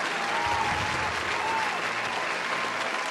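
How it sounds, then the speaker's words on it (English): Loud, continuous applause from a studio-style audience fills the whole stretch evenly, a thick hiss of many hands clapping with a faint tonal sound briefly above it. "Give yourself a round of applause if you got that right."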